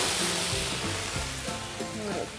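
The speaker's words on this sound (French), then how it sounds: "Je vais flamber au genièvre" Onions, garlic and ginger flambéed with genever in a hot pan, giving a loud rushing sizzle and whoosh that fades slightly, with a voice talking underneath.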